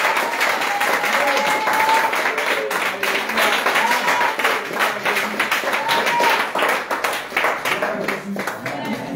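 A church congregation claps together in a lively, rhythmic beat, close and loud, with voices singing or calling out over the steady clapping.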